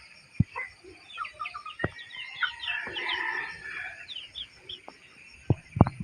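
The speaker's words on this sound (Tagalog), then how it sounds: "Dagko ng manok na to, guys." Chickens cluck and chatter close by in a busy run of calls, with a few sharp knocks and thumps scattered through the background.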